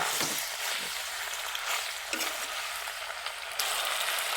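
Mixed vegetables with a little water, salt and oil cooking in a pan, a soft continuous bubbling sizzle with a few clinks of stirring, no talk.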